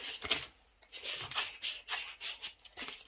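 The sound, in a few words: sanding a basswood spoon with sandpaper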